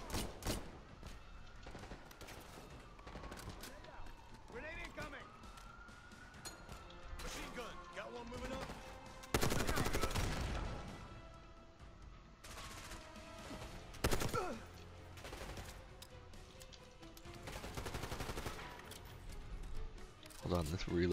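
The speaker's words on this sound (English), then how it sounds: "Oh, this is a shotgun, okay." Shotgun blasts in the Black Ops 6 campaign: loud, sharp booming reports mixed with other scattered gunfire and crashes, heard under an ongoing game voice track and music.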